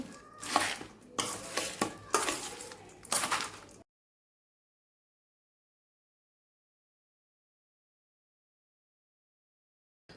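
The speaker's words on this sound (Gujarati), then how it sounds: "હવે બધું મિક્સ કરી દેવાનું છે આ ભેળ મિક્સ કરીને તરત જ નાસ્તો કરી દેવાનો" Bhel puri snack being tossed and mixed in a bowl, a few loud scraping, rustling bursts up close for about four seconds, followed by near silence.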